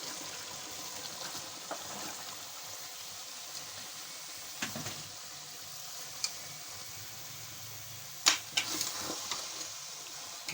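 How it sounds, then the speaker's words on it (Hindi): Potatoes and cauliflower sizzle in a pan of roasted masala with a soft, steady frying hiss, broken by a few sharper clinks and stirring scrapes, the loudest cluster near the end. "अब हम इसके अंदर आलू और गोभी काट के इनको धो के रख लिया था वो डालेंगे।"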